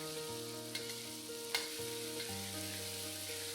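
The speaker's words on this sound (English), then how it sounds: "You will notice that as you fry the ingredients, the oil will be absorbed into the ingredients." Rempah spice paste fries in oil, a steady close sizzle with a few sharp clicks of a utensil scraping the pan, no voices.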